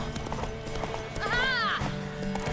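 In The Witcher 3, a horse gallops with quick clip-clop hoofbeats, close by, and gives a rising whinny partway through.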